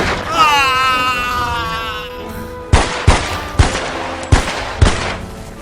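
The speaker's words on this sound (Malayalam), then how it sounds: "ജോസഫ് മെങ്കലെ ഇതാ വെടിയേറ്റ് മരിക്കുന്നു." Five sharp, loud gunshots ring out one after another in a Malayalam stage science drama, following a drawn-out, wailing voice with a hall-like echo.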